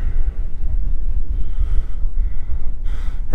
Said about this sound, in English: It's windy up here on this side.